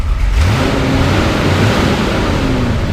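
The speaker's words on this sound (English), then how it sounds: "Go ahead and rev it up a little bit." A 1978 Corvette 25th Anniversary Edition engine revs up close, a loud, steady, rising roar with no talking over it.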